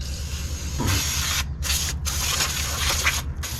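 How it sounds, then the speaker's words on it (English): Brake cleaner is sprayed onto a trailer brake assembly in several close, loud hissing bursts separated by brief pauses, with no talking over them. "Just use some brake clean and give everything a good shot"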